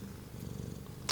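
A cat purrs steadily and close up, a low continuous rumble with no other sounds over it.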